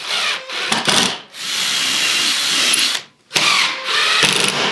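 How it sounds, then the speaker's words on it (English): A power drill drives a 1.5-inch screw into glued wood while building a box joint jig, giving three loud whirring bursts with short pauses between them, close up and with no talk. "And drive the screw."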